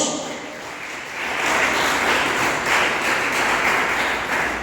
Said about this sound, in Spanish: Dar un aplauso a Dios